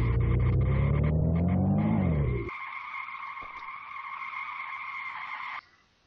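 A car in a Unity survival video game revs up, its engine pitch rising, then cuts to a sustained tire skid squeal that holds steady before stopping abruptly, all loud and synthetic with no talk.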